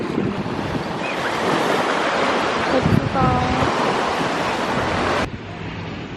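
Sea waves wash onto a beach at Lagos, Portugal, a loud continuous surf roar with wind buffeting the microphone, and a person speaks briefly over it.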